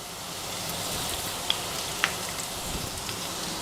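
Chopped chow chow (chayote) and other chutney ingredients sautéing in a pan give a steady, close, even sizzle with a couple of tiny sharp pops and no voices.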